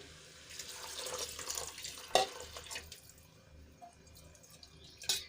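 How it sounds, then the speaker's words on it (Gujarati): Water is poured from a bowl into a pressure cooker holding aloo matar pulao, a splashing, trickling stream that swells, then tapers off with a few drips. "હું એ જ વાટકીના માપથી દોઢ વાટકી પાણી ઉમેરીશ"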